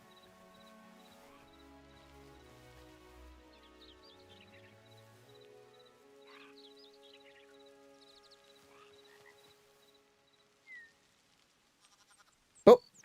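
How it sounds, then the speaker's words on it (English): Sheep bleat faintly in the block-building video game Hytale, a few thin, wavering calls in the first several seconds over near silence, ending with a brief sharp tap. "Sheep! Sheep! We found a little sheep!"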